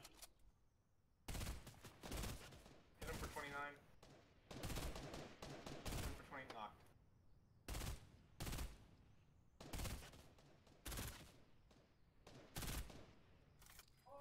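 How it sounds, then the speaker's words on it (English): Rapid bursts of video game gunfire in Fortnite crack in quick succession, sharp and fairly distant, recurring in clusters throughout with no talking. "I hear gunshots."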